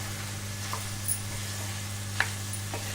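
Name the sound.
stirring tomato and spices with mutton liver in a pan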